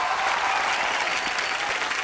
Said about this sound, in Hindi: आप सबकी जोरदार तालियों के बीच स्वागत करना चाहूंगा।